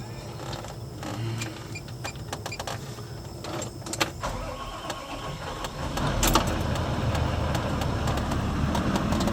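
An old Volvo car cranks amid some clicking and jangling, then its engine catches around the middle and settles into a steady low idle rumble, heard close without talk.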